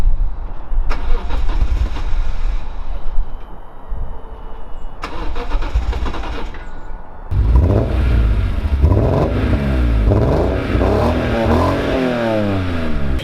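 A BMW E46 M3 with nearly empty fuel is cranked over a few times before the engine catches and runs with a rough, revving idle, loud and close.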